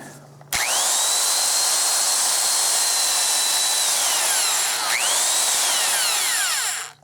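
A DeWalt classic 1/2-inch heavy-duty spade handle drill with freshly greased gears spins up with a rising whine, runs at a steady high pitch, briefly slows and revs again, then stops; close and loud with no talk.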